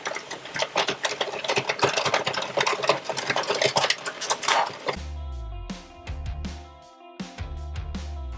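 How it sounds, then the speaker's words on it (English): An Addi circular knitting machine is cranked slowly through rows of waste yarn, giving a continuous dense clattering of needles. It then shifts into a rhythmic mechanical ratcheting with steady repeated clicks, loud and close, with no speech. "we're going to go ahead and crank on 5 total rows of waste yarn"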